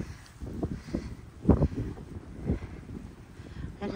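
Strong wind gusts in snowy Nebraska buffet the microphone with low rumbling bursts, close and uneven, while faint voices are heard.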